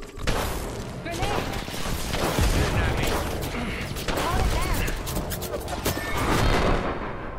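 Grenade blasts and rapid gunfire from an Apex Legends firefight, loud and dense throughout with heavy booms and sustained shooting, a voice calling out briefly over the battle.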